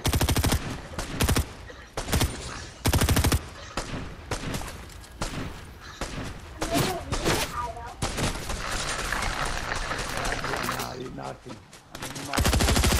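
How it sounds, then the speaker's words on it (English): Gunfire in a squad-based shooter video game: repeated loud bursts of rapid shots come in clusters with short gaps between them, while players talk over the action. "I'm still shooting."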